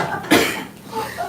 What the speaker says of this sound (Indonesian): langsung batuk-batuk